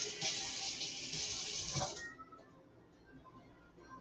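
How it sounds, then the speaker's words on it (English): Water runs briefly from a tap onto a split leftover butter roll, a steady near hiss that stops abruptly halfway, leaving quiet room tone with faint handling sounds. "Put a little bit of water on it."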